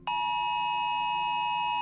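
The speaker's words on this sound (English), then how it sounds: "That's that classic alarm that you get on your phone if something bad is going on." A Wireless Emergency Alert tone on a phone: a loud, piercing, steady electronic beep that starts abruptly and holds unbroken for nearly two seconds, alone with no voices.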